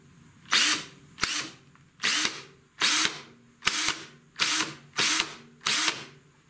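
Eight short bursts from a cordless drill, each ending in a sharp snap as the chuck brake catches on trigger release, evenly spaced and close, with no talking.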